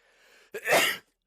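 A single sharp sneeze, a quick intake followed by a loud burst of breath, close and alone against a faint background hum.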